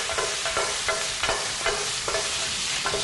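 Minced garlic and shallots sizzle in a pan while a utensil stirs them, with a steady frying hiss broken by repeated scraping strokes, close and alone with no talk.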